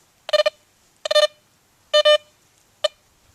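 Metal detector sounding over a nickel buried in sand: four sharp electronic beep bursts, the middle two longer and doubled, the last a short blip, clear and alone with no talk.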